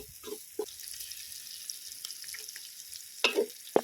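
Ginger frying in a pan over medium heat outdoors, a faint steady sizzle with a few scattered knocks and clinks of a utensil, sharper near the end.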